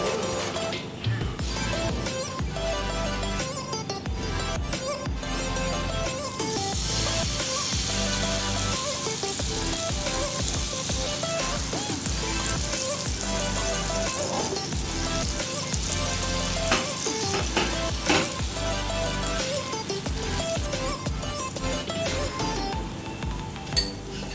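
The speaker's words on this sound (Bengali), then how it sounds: "ফ্রাই প্যানটা এবার গরম হয়ে গেছে দিয়ে দিচ্ছি মিক্সড ব্যাটারটা" Mixed vegetable batter sizzles in a hot frying pan, a steady dense crackle running throughout with occasional light clinks.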